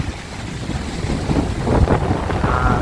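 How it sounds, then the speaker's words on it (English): Strong storm wind roars and gusts against the microphone, pushing the trees hard and growing louder partway through, a heavy rumbling rush with no voices. "I'm not sure if I can really capture just how windy it is out here."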